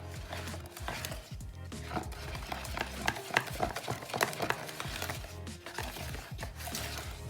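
Melted butter is gently folded into cake batter for pineapple upside-down cakes, a close series of soft wet scrapes and light utensil knocks against the bowl in an irregular rhythm.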